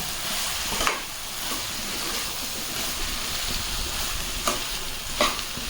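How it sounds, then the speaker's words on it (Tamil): Shredded cabbage sizzles and fries steadily in a pan for a cabbage poriyal, with a spatula stirring and scraping the pan now and then; no one speaks. "கோஸை வந்து கொஞ்சம் கொஞ்சமாக போட்டு எடுத்துக்கோங்க. கொஞ்சம் கொஞ்சமாக கிளறி விட்டுக்கோங்க."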